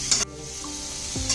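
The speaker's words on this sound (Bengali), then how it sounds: "একটু নুন হলুদ মিশিয়ে আমি এটা হালকা করে ভেজে নেব।" Ridge gourd frying over high flame in oil with salt and turmeric gives a steady close sizzle, with a brief stirring scrape near the start and another near the end.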